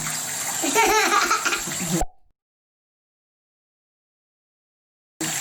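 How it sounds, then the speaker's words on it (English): Tap water splashes over hands to rinse off soap for about two seconds, close and lively with a child's laughter mixed in, then it cuts to silence before a brief return at the end. "Then I use the water to wash away the soap"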